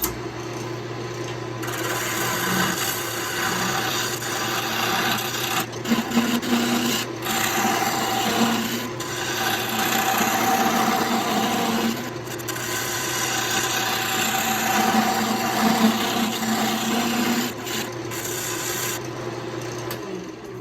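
Wood lathe spinning a log blank to make it round, a steady loud rasping, rubbing drone of the tool cutting wood that runs continuously for about twenty seconds, with a few brief dips and no talk.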